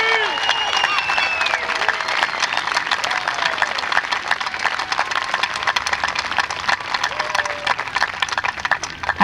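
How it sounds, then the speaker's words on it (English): Steady, dense applause from a crowd at a middle school 8th grade moving-on ceremony, continuous and fairly loud throughout with a few scattered cheers. "One last round of applause for the entire class of the Wilmington Middle School 8th grade class of 2023."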